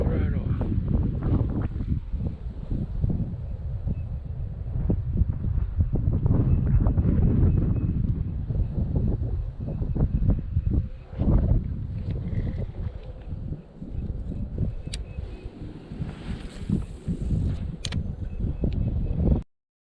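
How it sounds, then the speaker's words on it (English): Heavy wind buffeting the microphone on a lake during bass fishing from a Lifetime Tamarack Angler kayak, a loud continuous low rumble that eases off toward the end, with a voice briefly heard. "the wind started to pick back up"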